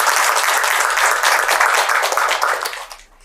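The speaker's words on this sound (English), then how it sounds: "round of applause to them" Audience applause at a panel event on living well: dense, steady clapping from a sizable crowd that holds strong for nearly three seconds, then thins and fades out at the end.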